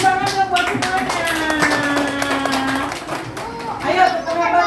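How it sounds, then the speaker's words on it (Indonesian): A group claps hands in a classroom activity, a steady crackle of many overlapping claps running throughout at close range, with voices chattering underneath. "Ayo tepuk tangan dulu semuanya."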